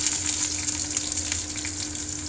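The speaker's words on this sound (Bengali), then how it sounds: "পেঁয়াজ একটু মেরুন মেরুন করে ভাজা হোক।" Onions frying in hot mustard oil with green chilies and five-spice seeds in a pan for bhindi masala, a steady loud close sizzle with crackling pops and no talking.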